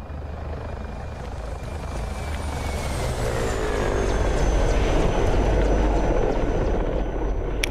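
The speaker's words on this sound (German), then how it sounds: "Hubschrauber." A helicopter in the DayZ video game passes overhead, its rotor drone and whining engine tones steadily swelling louder and shifting in pitch as it approaches, heard alone without talk.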